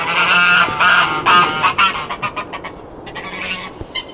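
Several geese at Stansted Mountfitchet Castle honk loudly and close by, a burst of overlapping calls tapering into shorter, choppier honks.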